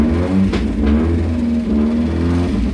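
A car engine hums loudly and steadily up close, climbing in pitch a couple of times as it revs.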